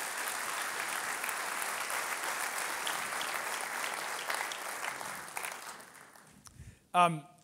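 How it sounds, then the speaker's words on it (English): An audience claps loudly and steadily at a Long Beach development update meeting. The applause then fades out and a single short voice sound cuts in at the end. "So let's give these projects a big round of applause."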